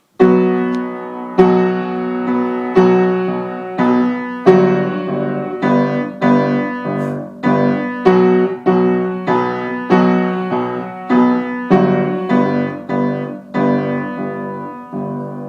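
A piano plays the Skyrim main theme slowly, with clear separate notes and chords struck one after another, each ringing and fading before the next, close and unaccompanied.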